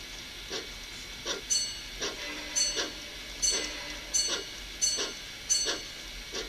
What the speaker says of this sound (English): let's see if we can do a slow pass of this train